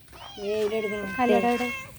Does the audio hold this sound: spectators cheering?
no